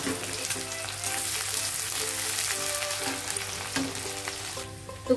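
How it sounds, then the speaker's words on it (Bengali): Sliced onions fry in hot oil until crisp, a steady close sizzle and crackle that holds throughout, with occasional stirring; no one speaks. "এখন আমি এটাতেই দিয়ে দেবো পেঁয়াজটা অর্ধেকটা আমি একটু বেরেস্তা করে উপরে তুলে নেবো"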